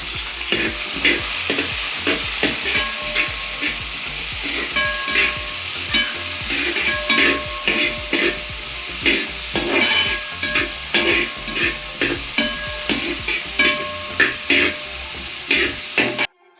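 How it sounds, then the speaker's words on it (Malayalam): Onions for a beef curry sauté in a hot pan, crackling and sizzling steadily while a spoon scrapes and stirs in quick repeated strokes, close and continuous. "ഈ ഉള്ളിയാണ് വഴറ്റാനേ പെട്ടെന്നുള്ള മാർഗം വഴറ്റി കിട്ടും"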